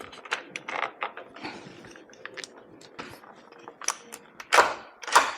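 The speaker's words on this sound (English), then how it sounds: "Manually lock and unlock your door with the thumb latch to ensure the Wyze Lock Bolt has been installed correctly" The thumb latch on a newly installed Wyze Lock Bolt is turned to lock and unlock a door, producing scattered close mechanical clicks and clunks that end in two louder latch snaps.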